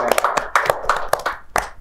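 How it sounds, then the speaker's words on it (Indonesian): A small group of people claps in short irregular bursts during a student organisation talk show, distinct hand claps close by with light voices in the background. "Tepuk tangan dulu dong buat Mbak Nisa."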